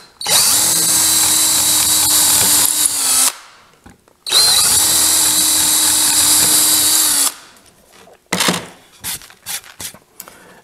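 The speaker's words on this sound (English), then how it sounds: "I gotta drill the holes through" A power drill whines at high speed through two long bursts, drilling holes through wood for a kitchen island cabinet, followed by a few short clunks and taps of handling.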